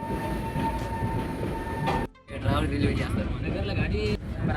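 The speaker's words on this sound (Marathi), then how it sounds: "सध्या भारतीय रेल्वे एवढे हळूहळू चालत आहे" Rumbling Indian Railways train running slowly, with rhythmic rattling of carriages, a brief hollow drop in sound partway through, then the steady roll resumes.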